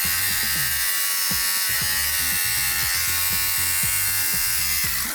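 Motorized electric fabric shaver with rotating blades running over thrifted clothing, a steady close buzzing hum punctuated by repeated quick scraping strokes as it passes across the garment.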